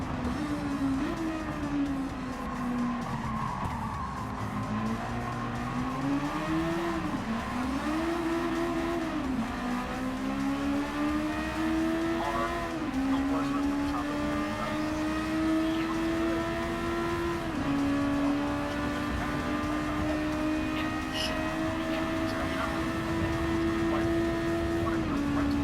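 Honda Civic race cars with VTEC engines scream at high revs in Gran Turismo 7, one close engine climbing and dipping in pitch through gear changes and corners, with other cars faint behind and no talk.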